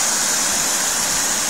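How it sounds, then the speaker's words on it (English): Water rushes down the spillway of a disused reservoir, a loud, steady, unbroken roar of falling water with no other sounds. "Here's the spillway"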